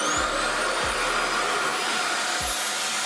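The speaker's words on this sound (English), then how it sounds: "It's definitely drying my hair, but I want to see what it can go up to, so I'm going to try that now." A hair dryer drying long hair blows at a higher setting, giving a loud, steady broadband roar throughout with a few low thumps.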